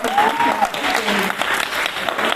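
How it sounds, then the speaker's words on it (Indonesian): Church audience at GBI Galuh Mas Karawang clapping together in a steady burst of applause, with a voice heard faintly over the clapping. "Oke, tepuk tangan dong"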